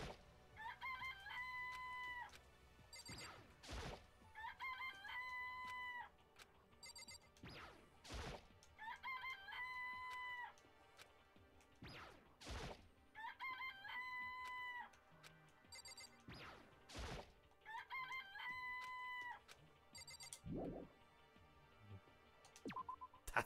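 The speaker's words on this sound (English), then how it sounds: "They're just regular chickens, right?" Repeated rooster-like crowing calls in the video game Danganronpa: Trigger Happy Havoc, about five bursts evenly spaced, with sharp percussive hits between them.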